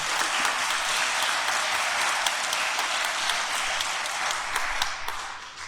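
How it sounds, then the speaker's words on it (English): Group applause for young volunteers at a service project gathering, many hands clapping steadily at moderate distance with a few sharper individual claps standing out, tapering slightly at the end. "give them a round of applause"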